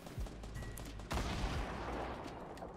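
Burst of video game gunfire in Fortnite Battle Royale, a loud crackling fusillade of rapid shots that kicks in about a second in and keeps rattling densely to the end, with no talk over it.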